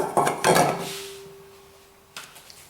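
A knife cuts through homemade pasta dough on a board, with two quick knocks close together, then quiet with a faint lingering ring, then one more sharp knock.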